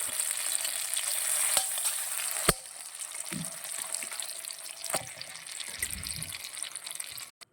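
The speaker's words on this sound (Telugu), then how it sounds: "కొంచెం గీ వేడెక్కిన తర్వాత ఈ పంప్కిన్ పేస్ట్ దీంట్లో యాడ్ చేసుకోవాలి." Pumpkin paste hisses and sizzles in hot ghee in a pan, a loud steady fry with a sharp clack at the start, then a softer crackle under light stirring.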